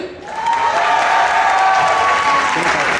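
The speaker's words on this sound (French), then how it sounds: "Et je suis avec Monsieur Sam des Saturdeman, je vous demande de l'applaudir" Applause and light cheering from the crowd at the Toulouse Game Show 2012 opening, loud and sustained, with a faint tonal whine running beneath the clapping.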